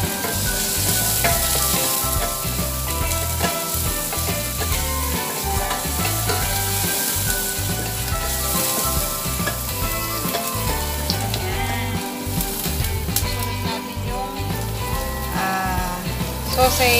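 Onions sautéing in a pan after garlic, the start of a Filipino sopas soup, giving a steady, dense sizzle and crackle with stirring scrapes that run without a break for the whole stretch.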